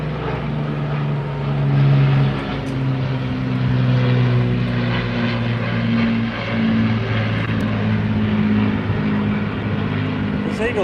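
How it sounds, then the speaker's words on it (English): A Lancaster bomber's piston engines and propellers drone loudly as it flies over the seafront at the Blackpool Airshow, a continuous throbbing hum that swells and holds for several seconds, with crowd voices faintly beneath. "It's the Lancaster bomber here at the Blackpool Airshow."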